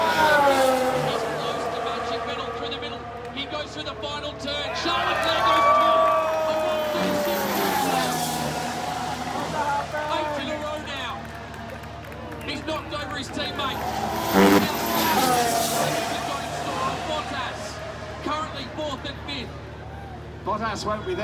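Formula 1 cars racing around the Marina street circuit at the Singapore Grand Prix, their engines whining and passing continuously under loud commentary and crowd noise.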